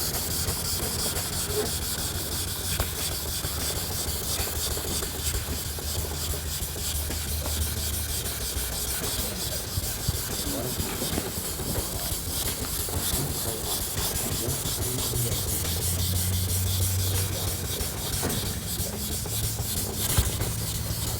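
Wet sanding a surface with fine-grit paper, moving from 1500 to 3000 grit, gives a steady, close rubbing hiss. It runs continuously for the whole stretch with no talk.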